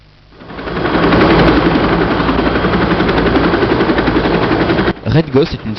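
Loud, rapid machine-gun fire and mechanical rattling fill the intro of the helicopter combat video game Red Ghost, with explosive bursts and a brief voice-like sweep near the end.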